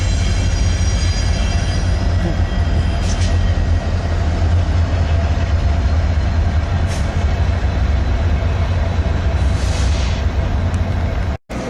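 A light rail train idles at a downtown Salt Lake City depot with its doors just closed, giving off a steady low rumble and hum and faint high whines. The sound holds loud and even, then cuts off sharply at the end.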